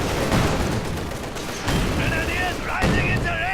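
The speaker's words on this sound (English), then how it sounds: "Panzerfaust off." Loud continuous battle din from the Company of Heroes 2 real-time strategy game, with overlapping gunfire and explosive booms as a Panzerfaust anti-tank weapon fires, plus whining tones and someone commentator's voice woven through.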